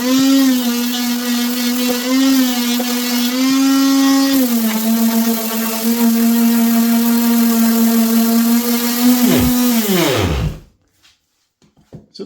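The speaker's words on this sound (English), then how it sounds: "I'm going to just use the sander to kind of ease these edges." A power sander eases the edges of a maple and walnut box, whining loud and steady up close with slight pitch dips as it bears on the wood, then spinning down and cutting off near the end.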